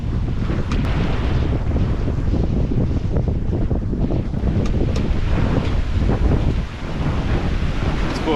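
Steady wind blowing at sea aboard a sailboat during a solo Pacific crossing, with constant roaring buffeting on the microphone and the wash of waves underneath, loud and continuous.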